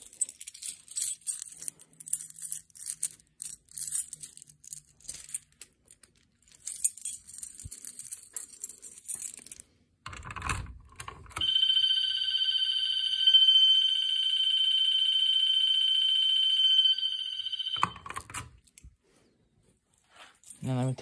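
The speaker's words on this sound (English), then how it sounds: "now let's go to my Wheelock MT. I'm gonna key activate it this time." After a stretch of jangling keys and clicking handling noises, a Wheelock MT fire alarm is key-activated and emits a loud, piercing, continuous electronic tone for about six seconds before it is shut off, followed by more clicking.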